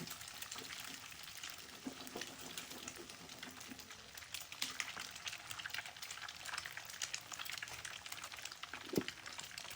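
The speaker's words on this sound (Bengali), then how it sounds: "ডিমটা একেবারে নেড়ে ফিরে এভাবে মিক্স করে নিতে হবে।" Beaten egg for fried rice sizzles in a hot pan while it is stirred. A faint, steady crackle of frying runs throughout, with soft scraping from the stirring.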